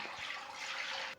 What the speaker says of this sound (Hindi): अब इसमें 3 गिलास में पानी डाल दूंगा।